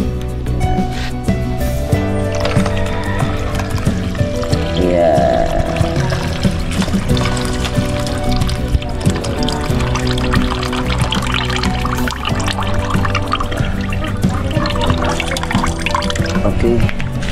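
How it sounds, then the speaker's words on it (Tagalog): Rice is rinsed in water in a home kitchen, giving sloshing, swirling and dripping sounds close by, under background music and a speaking voice throughout. "hugasan muna natin yung ating bigas"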